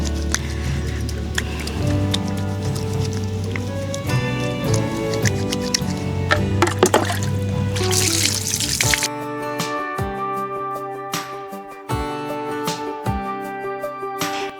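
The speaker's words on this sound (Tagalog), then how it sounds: "ang method ko ng paglilinis ng chicken ay pagkagaling sa freezer ganito" Raw chicken fresh from the freezer is rinsed under running water outdoors, a steady splashing and trickling with small clatters, louder in the first half and then thinner, more broken pouring with a few sharp knocks.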